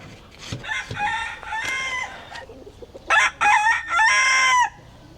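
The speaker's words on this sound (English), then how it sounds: "They dye their chickens different colors here." Roosters crowing and chickens clucking in Bali, with repeated loud crows, the strongest in a long sustained run near the end, close by over faint background.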